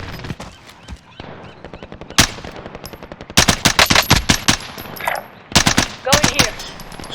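Fennec submachine gun in Call of Duty: Warzone firing in short, sharp bursts, with several loud clusters of rapid shots separated by pauses and a few isolated cracks in between.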